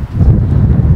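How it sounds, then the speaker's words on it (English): Wind blowing across a rooftop helipad, a steady loud low rumble of gusts buffeting the microphone throughout, with no other sounds standing out. "It's windy on this helipad."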